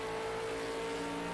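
A V8 Supercar engine in a racing video game at Daytona, heard as a loud, steady, sustained engine drone that holds an even pitch throughout with no pauses.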